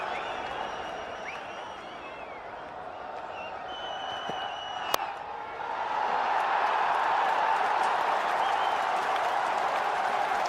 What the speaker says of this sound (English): There are quite a lot of Pakistan supporters in this good crowd here at Lord's today